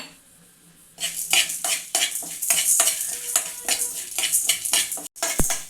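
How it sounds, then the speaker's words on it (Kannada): Cumin and black pepper dry-roast in a heated pan for rasam, with a spoon stirring and scraping in quick, close, clinking strokes after a brief quiet start. "ಜೀರಿಗೆ ಮೆಣಸು ಒಂದು ಒಂದು ನಿಮಿಷ ಚೆನ್ನಾಗಿ ಹುರ್ಕೊಂಡಿದ್ದೀನಿ"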